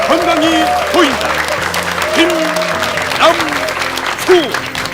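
A television lecture audience gives loud applause to welcome an acupuncture and moxibustion master, a steady roar of clapping with tonal music or voice-like swoops layered over it.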